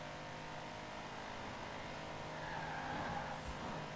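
A Mercedes 6x6 in Forza Horizon 4, its engine holding a steady drone that swells a little toward the end as it picks up speed, heard alone without talk.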